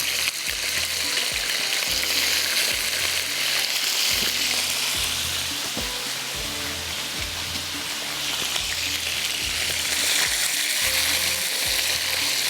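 Chicken pieces fry with garam masala in a hot pan, a loud, steady close sizzle with a dense hiss that runs unbroken, marked by faint stirring scrapes and background music.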